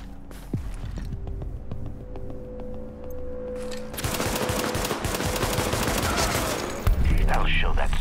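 Rapid bursts of gunfire during a firefight in Tom Clancy's The Division, a dense rattle of shots with footsteps mixed in, growing louder and heavier midway through with a sharp crack near the end.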